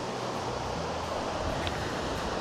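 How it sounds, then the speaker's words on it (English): Steady broadband wind rumble at a windy beach buffets the microphone, blending with a soft surf-like hiss throughout, with no voices. "trying out our new mics because it's super windy."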